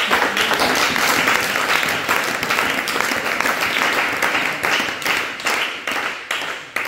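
A church congregation breaks into loud, sustained applause, dense steady clapping from a large crowd that continues without a break.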